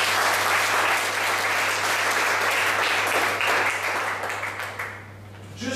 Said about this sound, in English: Let's clap it up for Ron.